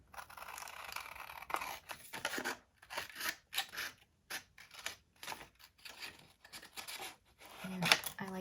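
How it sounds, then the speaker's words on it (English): Scissors snipping through paper while trimming pieces for a stacked pocket mini album, a series of close, crisp cuts in short bursts with brief pauses between them. "So just cut a little angle here and then cut this whole entire strip on the"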